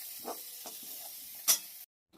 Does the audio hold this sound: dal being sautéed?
yes